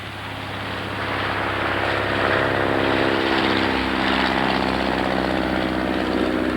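A radio-controlled model of a WWI fighter, a 1917 Albatross D5A or Sopwith Camel, drones loudly past at an air show, its small engine buzzing steadily and swelling from moderately near to a sustained close roar.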